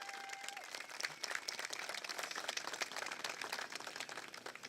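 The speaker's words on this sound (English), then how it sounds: "Let's give them a round of applause." A crowd at an outdoor town lighting ceremony claps for first responders, a fairly quiet, scattered applause with irregular individual claps and light crowd murmur, staying even throughout.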